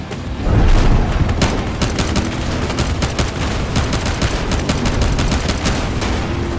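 Rapid gunfire in the video game Monaco, dense bursts of shots fired continuously and loud for several seconds, close and unbroken, with no talk over it.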